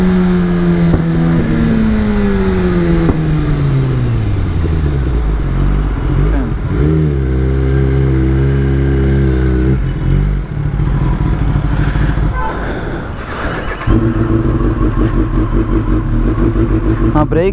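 A Kawasaki ZX-10R sport bike revs hard through the gears, its engine pitch sweeping upward again and again between quick shifts, loud and close throughout.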